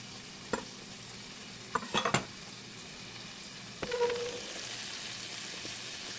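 Raw shrimp dropped into a very hot pan for keto shrimp fried cauliflower rice: a few sharp utensil clinks, then a sudden loud sizzle that keeps crackling steadily until the end.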